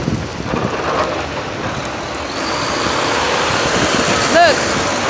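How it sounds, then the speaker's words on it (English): Three snow-clearing trucks pass one after another on a Harlem street in a New York City snowstorm, a rising rumbling drone amid wind noise and a short air-brake hiss, with a person talking. "3 trucks in a row cleaning up the snow."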